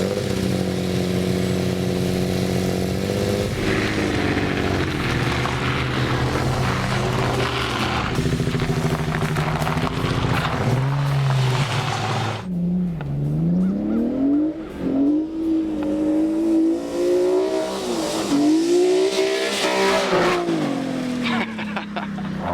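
Nissan 350Z cars ice drifting and racing on snow, engines revving and wavering in rising and falling sweeps, loud and close, with a voice talking partway through.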